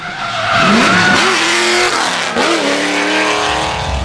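LS7-powered Nissan Silvia drift car fitted with Origin Lab aero, skidding at Hampton Downs in Waikato, its V8 revving and bouncing off the limiter over sustained tire squeal, loud and close.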